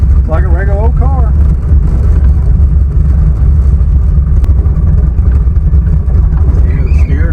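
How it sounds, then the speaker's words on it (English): A turbocharged Chevrolet Nova street car idles at about 900 rpm, a loud, steady low rumble heard close up. A person talks briefly over it early on. "She's idling about 900, just like a regular old car."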